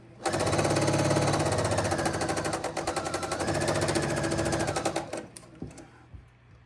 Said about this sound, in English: And then we're going to sew a 1/4 inch seam, a little bit wider.